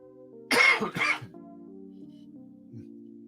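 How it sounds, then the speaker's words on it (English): Two sharp coughs close together, loud and near, followed by a low steady hum. "So aggravated that I can't talk without coughing."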